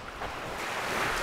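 Waves roll in on the Baltic Sea coast in Germany while wind blows steadily across the microphone, making a continuous broad rushing wash with no speech.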